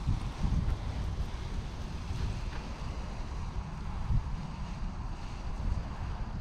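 Strong wind roars steadily against the microphone outdoors while a new Dudek Warp 2 paraglider wing is unboxed, a constant heavy rumble with gusty swells and no speech.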